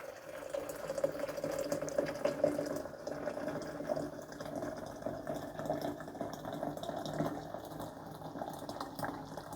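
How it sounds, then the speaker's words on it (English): Boiled water pours steadily into a teapot in a Persian home kitchen, a continuous close gurgling fill that holds at an even level for several seconds, with a faint voice underneath. "Fill it with boiled water."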